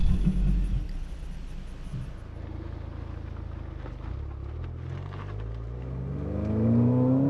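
Ford Fiesta ST's small turbocharged engine revving toward redline, a steady loud rumbling drone that builds and swells louder near the end, with no talking.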